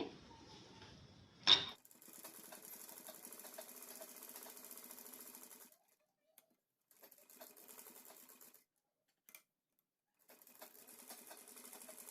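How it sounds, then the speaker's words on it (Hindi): A sewing machine stitching around the neckline of a dress runs in steady bursts of rapid, close mechanical whirring, stopping and restarting several times with short pauses between runs. "हमें पूरे गले पे इतने फासले पे सिलाई लगानी है।"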